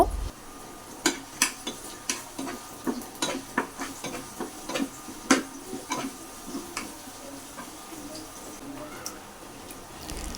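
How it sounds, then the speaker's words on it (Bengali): Chopped onions frying in hot oil in a home kitchen, with a steady soft sizzle broken by irregular clicks and taps of a spatula stirring against the pan, moderately close and without talk. "আমার তেলটা কিন্তু গরম হয়ে গেছে তাই আমি পেঁয়াজ কুচিটা দিয়ে দিয়েছি"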